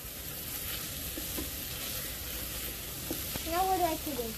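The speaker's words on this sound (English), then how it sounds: "Let the onions get fried a little bit more" Onions fry in a pan for a Nepali-style fish curry, giving a steady close sizzle that runs throughout, with a brief voice near the end.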